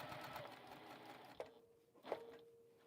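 Juki sewing machine basting-stitching fabric, heard as a faint, quiet mechanical whir with a couple of brief clicks and short low hums from the motor as it starts and stops.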